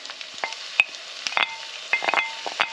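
Onions hit shimmering hot oil in a wok for a chicken tikka balti, giving a soft, close crackle with scattered sizzling pops and light stirring clicks, no voices.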